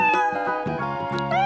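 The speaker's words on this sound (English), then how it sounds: "cat." A cat meows over a bright, busy musical backing with layered melodic tones, the cry close and clear and lasting about a second and a half.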